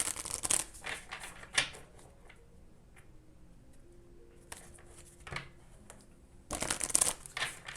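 Oracle cards being shuffled by hand: a brisk burst of papery flicking, a quieter stretch with a few soft taps, then another lively shuffling burst, all close and clear.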